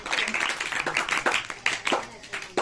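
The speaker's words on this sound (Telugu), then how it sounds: "క్లాప్స్ కొట్టండి" A group of children clap their hands in quick, uneven bursts, loud and close, with voices mixed in among the claps.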